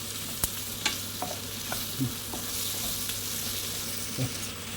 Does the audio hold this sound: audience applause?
no